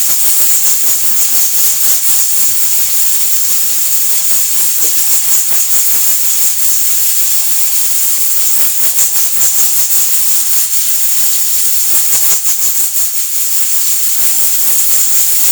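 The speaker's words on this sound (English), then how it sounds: "that's the pressure cooker in the background" A pressure cooker hissing steam in a home kitchen, a loud, constant high-pitched hiss that fills the whole stretch without pause, with faint clicks beneath and no talk.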